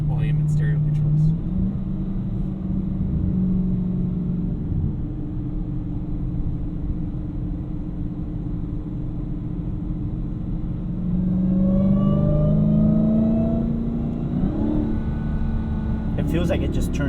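A 2018 Dodge Demon's engine rumbles deep and loud from inside the cabin while driving, holding a steady low drone that climbs in pitch through revs near the end. A person talks over it at times.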